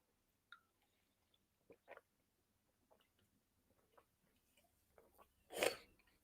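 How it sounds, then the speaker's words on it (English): Someone eating a donut close up, with scattered soft wet chewing clicks and squishes, quiet overall, ending in a louder burst near the end. "You hear me chewing that?"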